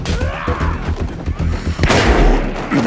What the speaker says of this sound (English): I just wasted a bullet. I'm just shooting any and everybody.